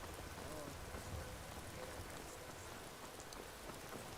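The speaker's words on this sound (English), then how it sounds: "Bloody rain." Rain falls steadily in the video game Skyrim as a constant, even hiss of drops with no other sounds standing out.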